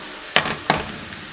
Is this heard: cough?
no